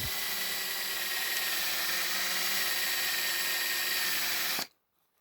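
A power drill runs steadily and gently into the soft-alloy body of a Matchbox Super Kings K-18 die-cast articulated tanker, a continuous close whine with a faint metallic edge that cuts off abruptly near the end.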